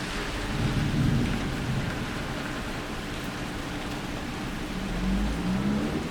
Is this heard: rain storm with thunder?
yes